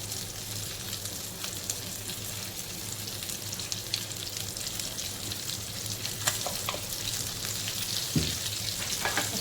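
Whole pomfret fish coated in semolina and green masala, shallow-frying in oil in Konkani style, giving a steady crackling sizzle throughout with a few faint pops and spatters, no voices.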